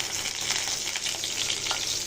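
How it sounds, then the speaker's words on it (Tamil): Urad dal, mustard seeds and curry leaves fry in hot oil for a Tamil greens dish, a dense, steady crackling sizzle with popping bursts, close and continuous, with no voices. "உளுந்தம்பருப்பு போட்டுக்கலாம். கடுகு போட்டுக்கலாம். கருவேப்பிலை போட்டுக்கலாம்."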